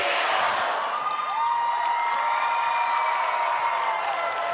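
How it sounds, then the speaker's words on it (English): A big home crowd at Carmichael Arena cheers and shouts steadily through a set-four volleyball match between North Carolina and Duke, a dense sustained roar with scattered whoops, no single voice standing out. "As they're going to try to cheer on their Tar Heels to a victory here in set 4."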